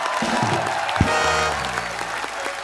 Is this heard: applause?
yes